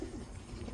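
A male pigeon cooing without a mate nearby at a pigeon farm: a short, low, throaty coo, faint and close.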